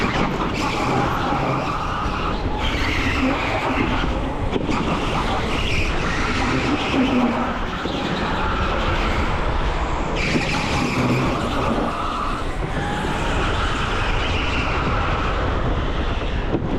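Electric go-karts racing round an indoor track at TeamSport Warrington, a steady whining motor drone with tyre scrub and skidding through a chicane, continuous and close with no voices.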